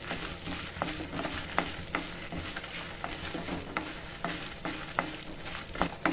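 Four or five dried red chillies roasting slowly over low heat in a pan, a soft continuous sizzle with repeated scraping strokes of a spatula and occasional sharp clicks, close and fairly quiet.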